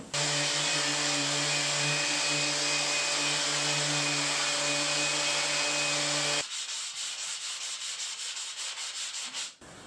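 Power sanding of a DAICH LuxRock resurfaced countertop with 120-grit sandpaper: a loud, steady grinding whir for several seconds, then a quicker run of rhythmic rubbing strokes after the tone drops away.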